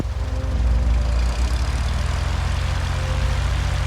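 A Cessna propeller plane's engine runs steadily at high power for a takeoff roll, a loud, continuous low drone with a buzzing propeller tone that holds level throughout.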